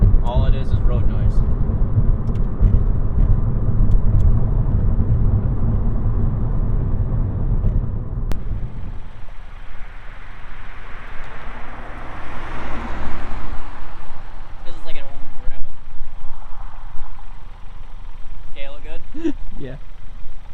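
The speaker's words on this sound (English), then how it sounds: "This is cruising at 60. All it is road noise." Steady road and tire rumble inside a Hyundai Veloster Turbo cruising at 60 mph, a constant low drone with some rustling and faint cabin noises later on.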